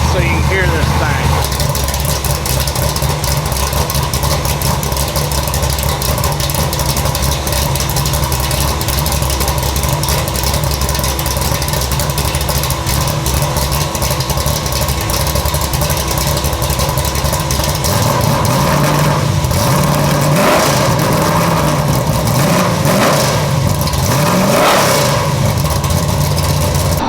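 A big-block Chevy Nova engine idles loudly and roughly nearby, then blips through a few throttle revs toward the end before settling back.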